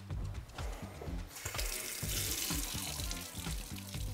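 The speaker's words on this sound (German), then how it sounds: "lass uns doch mal schauen, ob es warmes Wasser gibt" Hot water from a household supplied by a domestic hot-water heat pump runs from a tap into a sink in a steady splashing stream with a few clunks, with no talk.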